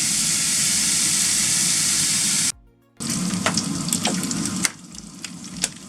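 Bacon sizzles in a pan on a plug-in ceramic hob, a loud steady hiss that drops out briefly, then returns with sharp pops and spatters; no voices are heard.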